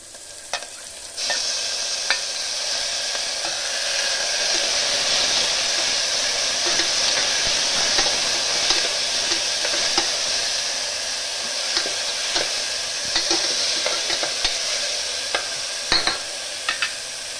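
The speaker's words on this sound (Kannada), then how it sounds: "ಕೊತ್ತಂಬರಿ, ಬೆಳ್ಳುಳ್ಳಿ ಮತ್ತು ಅದ್ರಕ್ ಪೇಸ್ಟ್ ಅದನ್ನೀಗ ಮಿಕ್ಸ್ ಮಾಡ್ಕೊಳ್ಳೋಣ" A coriander, garlic and ginger paste is stirred into masala rice frying in a pan, making a loud, steady sizzle with a continuous hiss, broken by light scraping and stirring clicks throughout.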